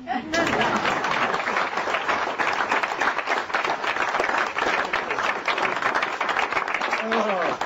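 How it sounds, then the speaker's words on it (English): Studio audience at a live radio broadcast giving a full round of applause, dense and continuous with voices audible underneath. "could I have a round of applause?"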